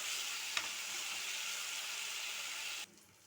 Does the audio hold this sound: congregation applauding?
no